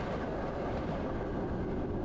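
A video game train rushes past in a dense, loud, continuous roar of rumbling rail noise, close by and steady throughout the short span.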